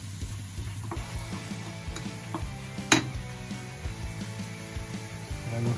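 Green beans sizzle steadily in a hot pan of Thai-style monkfish curry while being stirred, with soft scrapes and a single bright clink of utensil on pan partway through.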